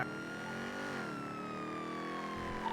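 A car in the video game GTA drives and brakes, a faint steady engine tone sliding slowly downward in pitch, with a distant siren-like whine above it and no talk.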